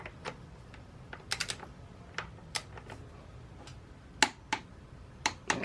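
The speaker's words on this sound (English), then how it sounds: "you're going to torque it to 33 foot-pounds" Sharp, isolated clicks ring out at irregular intervals as a torque wrench tightens the front wheel of an Alta Redshift SM electric motorcycle, some clicks louder and close, others faint, with no talk over them.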